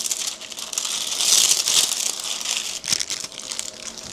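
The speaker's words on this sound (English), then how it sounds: "we can start getting this inner layer of plastic trimmed" Plastic and foil being trimmed from the inner layer of a 185mm² power cable. Close, crisp crinkling and crunching comes in irregular bursts, with rustling scrapes between them.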